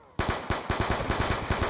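Rapid, nonstop gunfire from a modded shotgun in the Black Ops 2 shooter game, firing in quick machine-gun-like bursts about ten shots per second. It starts abruptly after a brief quiet moment and stays loud and close throughout.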